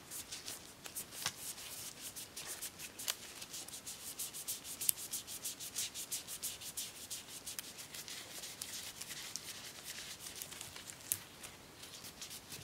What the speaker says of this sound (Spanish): voy a apoyarme aquí para poder tallar un poco más fuerte